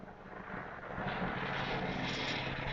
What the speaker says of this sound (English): Sorry, that's a helicopter.